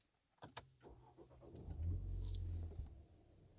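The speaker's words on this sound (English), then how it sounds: "let's start her up" A few clicks and a starter crank, then a Ford Focus SW ST Line engine catches and settles into a low steady idle nearby.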